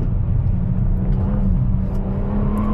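An Audi S5 engine holds a steady, loud, droning rev during a donut on a wet road, close and continuous with no break.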